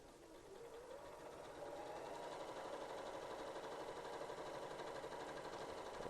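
A sewing machine runs steadily while stitching a Churn Dash quilt block, its motor whirring and needle chattering in a continuous, even rhythm that grows slightly louder partway through, close up and with no talking.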